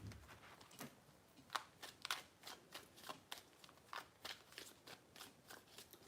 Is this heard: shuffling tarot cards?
yes